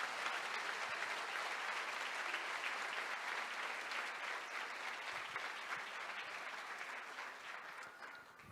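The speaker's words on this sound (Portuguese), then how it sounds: "Vamos aplaudir Jesus, Ele merece toda a honra" Church congregation applauding during a bishop's sermon, sustained dense clapping from a large crowd, steady and loud before easing off near the end.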